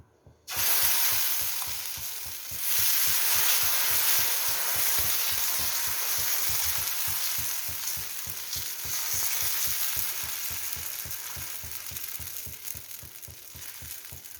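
Oats dosa batter frying on a hot pan, a loud continuous sizzle that starts abruptly and holds steady with a soft rapid pulsing under the hiss.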